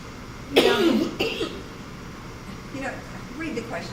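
A single close, sharp cough bursts out with a quick follow-up, then fainter throat sounds trail off in a quiet meeting room during a League of Women Voters forum in Watkins Glen.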